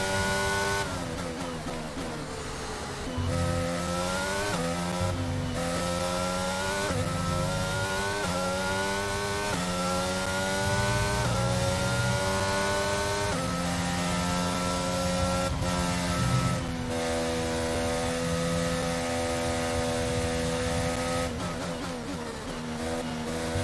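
An F1 2022 race car engine in the video game, lapping the British GP track at Silverstone, a loud sustained high-pitched whine that climbs through the gears and dips at shifts, steady and close throughout.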